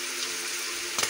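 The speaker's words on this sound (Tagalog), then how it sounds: "Ayan, medyo niluto-luto ko pa guys yung karne." Meat sizzles steadily as it is stir-fried in a large pan, a short, dense hiss with a brief stirring scrape near the end.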